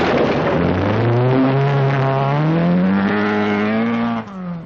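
An Opel Kadett rally car screams past at speed, its engine note climbing steadily through the gears in one loud, continuous rising drone, near and dominant throughout.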